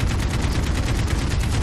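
Rapid automatic gunfire in the video game Modern Warfare, a dense, continuous barrage of loud, closely spaced shots filling the whole moment with no pause.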